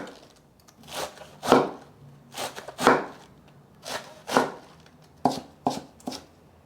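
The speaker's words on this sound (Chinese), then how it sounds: "把高丽菜切丝。" Soaked cabbage being cut into shreds with a knife on a board, a run of crisp, separate chopping strokes in loose bursts, close and clear.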